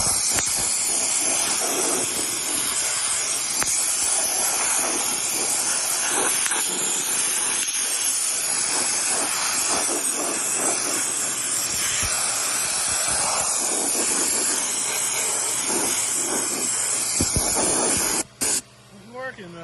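Spray can laying another coat of paint in a workshop, a loud close hiss that runs almost without a break and then cuts off abruptly near the end, with brief pauses and a voice faintly underneath.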